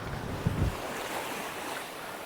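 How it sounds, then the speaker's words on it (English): Strong wind roars against the microphone on a rocky coast at Seaton Sluice, with a dense wash of breaking waves underneath, loud and continuous with a brief gust near the start. "Oh, that wind."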